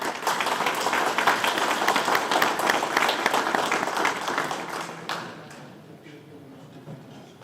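A crowd applauds veterans' families at a Filipino American community anniversary awards ceremony. The clapping is dense and sustained, then thins and fades after about five seconds.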